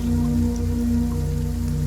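Steady, unbroken patter of rain on a surface, evenly loud throughout with a low hum underneath and no talking.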